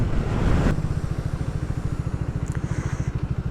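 A Triumph Speed 400 motorcycle idles nearby with a steady, rapid putt-putt engine rhythm, loud and close, after a brief burst of noise at the start.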